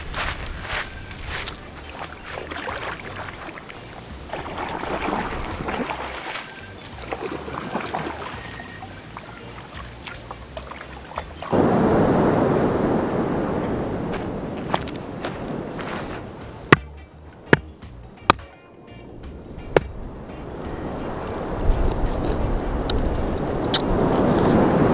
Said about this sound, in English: I'm about to wash the strainer off a little bit in the river